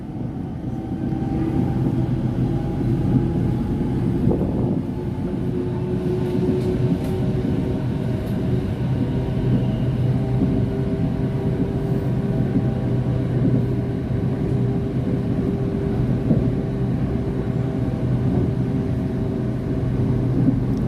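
Continuous rumble of a train in motion heard from inside a carriage, a steady low roar with faint rattles and no talking.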